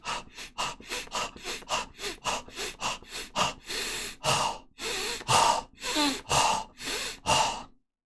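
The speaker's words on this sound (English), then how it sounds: "Deeply breathing" Deep, forceful breaths drawn through an open mouth and nostrils, a rapid run of short sharp huffs giving way to longer, heavier inhales and exhales, close and loud with no talking.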